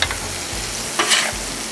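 Cowboy stir fry sizzles and bubbles on a Blackstone griddle, a steady, moderately quiet frying hiss with a slight swell near the middle and no talking.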